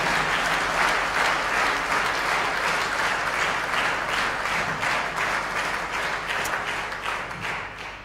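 An audience at a Christmas event in Rundāle Palace applauds the artists and dancers, thick continuous clapping that holds steady and tapers off toward the end.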